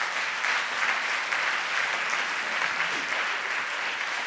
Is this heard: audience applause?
yes